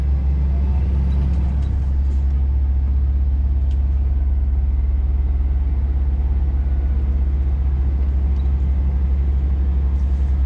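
A Scania truck's diesel engine labours up a snowy hill, droning as a constant heavy low rumble close by, with faint clicks and rattles on top.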